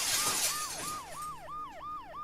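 Glass shatters in a video game, followed by an ambulance alarm siren wailing in repeated rising and falling sweeps, loud and close, with no talk.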